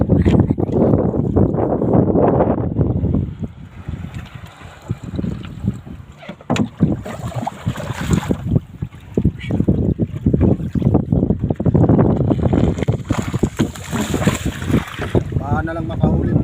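Strong wind gusts buffet the microphone on a small boat over rough, choppy sea, with water sloshing and hull noise in a loud, continuous roar that surges and dips, and voices talking intermittently.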